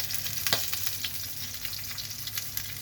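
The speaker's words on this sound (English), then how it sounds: "you can hear all the popping, crackling, and that's the fat rendering" Lamb chops sizzle in a pan as the fat renders, a soft steady frying hiss broken by sharp pops and crackles, one loud spit standing out early, close and fairly quiet.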